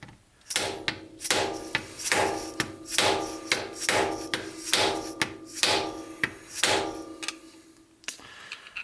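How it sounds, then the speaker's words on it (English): A hammer strikes a stuck metal engine part repeatedly in a steady rhythm, about a dozen loud ringing blows close by. "give it a couple of good hits with a hammer"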